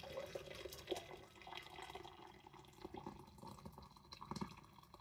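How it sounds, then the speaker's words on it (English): Boiling water pours steadily from a kettle into a container with green tea and sugar, a faint, continuous splashing trickle with a few small clinks, heard close and alone. "And then you want to fill that with hot water,"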